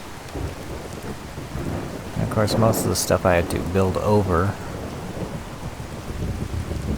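Steady rain and rolling thunder play throughout a Fallout 4 settlement scene, a constant washing hiss with low rumbles, while someone talks over it for a few seconds in the middle.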